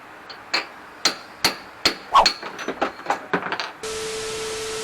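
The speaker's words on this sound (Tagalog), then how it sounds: "Sa ilalim naman tayo pukpok." Repeated hammer blows strike underneath an NMAX scooter's steering head while its ball race is replaced, about a dozen sharp metallic knocks at uneven spacing, loud and close, followed by a steady electrical hum.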